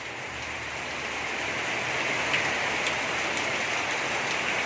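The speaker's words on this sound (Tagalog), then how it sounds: "Ang lakas na naman ng ulan guys." Heavy rain pours down in a steady, dense hiss, growing slightly louder, with occasional drops splattering close by and no voices.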